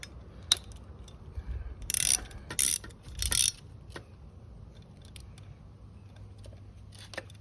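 A wrench tightens bolts on the SW-Motech saddle bag mounts of a Triumph Speed Twin, giving three short bursts of quiet ratcheting clicks close by, with faint handling taps before and after and no talk.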